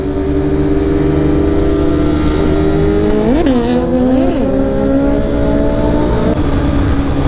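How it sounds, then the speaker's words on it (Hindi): Several superbikes riding ahead on a road, heard from a following rider's position, with steady loud engine drone and two rising rev swells partway through under constant wind and road noise. "आज 3 सुपर बाइक मेरे आगे चल रहे हैं"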